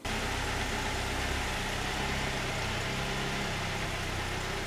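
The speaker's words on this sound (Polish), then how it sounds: "A teraz czas wyprowadzić samochód na zewnątrz." A car engine idles steadily as it is driven out of a garage, a constant low hum at close range with no talking.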